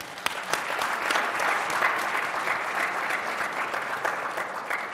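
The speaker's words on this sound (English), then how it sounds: "Please join me in a round of applause for our panelists." A live audience applauds panelists at a discussion on COVID and mental health, a dense, steady round of clapping that holds evenly throughout without voices over it.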